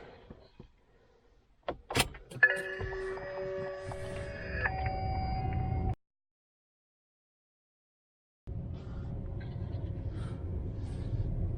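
A Renault Zoe electric car powers up with soft clicks and a brief clack, then electronic chimes and a low hum, which cut to silence before the quiet hum returns.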